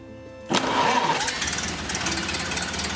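Ford Model A flathead engine, sitting unused since 1975, catching after a short crank and settling straight into a steady, even running chug, loud and close, with no talking.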